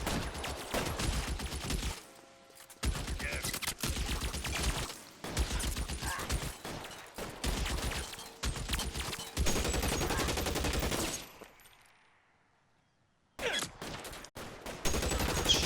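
A Tommy gun fires in a video game, rapid automatic bursts repeating loud and close, separated by short gaps, with a longer quiet stretch before a final volley.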